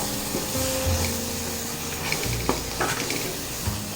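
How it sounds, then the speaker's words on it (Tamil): Onion and masala stirred and sautéed in a pan for Tamil egg curry, a steady close sizzle with scraping spoon strokes against the pan and no talking. "நல்லா சுருளை வதக்கணும்."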